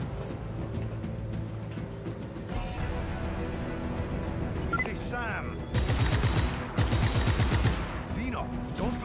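Enemy gunfire in the open-world action game Just Cause 3, with sustained rapid automatic bursts and overlapping shots, loud and continuous, growing denser toward the end.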